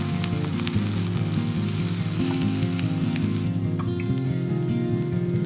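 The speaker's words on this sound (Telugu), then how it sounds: "పాలకూర పచ్చిగా ఉంటుంది కదా అదంతా మగ్గేదాకా బాగా ఫ్రై చేసుకోవాలి" Raw spinach frying in a pan for Korean-style spinach egg fried rice gives a steady, crackling sizzle over a sustained tonal hum throughout.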